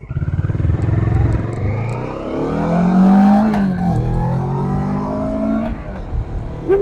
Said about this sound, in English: We accidentally quick shifted 2 gears.